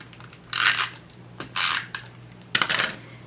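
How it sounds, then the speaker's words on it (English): A tape runner lays adhesive on the back of a paper sentiment panel for a handmade Christmas card, giving three short, close, rasping strokes with brief pauses between them and no talking. "I'm going to use my tape runner and tape up my sentiment panel."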